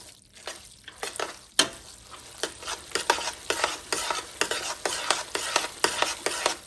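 A spoon is worked through tuna mac as cream soup is folded in, making a run of thick, wet, squelching strokes at a regular pace, close up and fairly loud.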